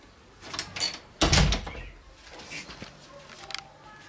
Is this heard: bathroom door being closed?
yes